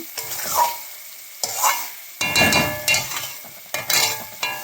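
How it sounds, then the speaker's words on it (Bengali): Potatoes are stirred through a frying spice paste in a pan, with loud scraping strokes that come in bursts over a running sizzle and no talk. "আলু দিয়ে নেড়ে চেড়ে নিলাম"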